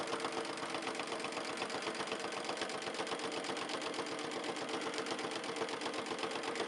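Sewing machine running a wide satin stitch during free motion quilting, a continuous rapid mechanical chatter with an even fast rhythm, heard alone at moderate level.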